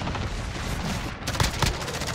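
Shotgun blasts in the Modern Warfare video game during a Search and Destroy match, a couple of sharp booms near 1.4 and 1.6 seconds over dense, continuous game noise and gunfire.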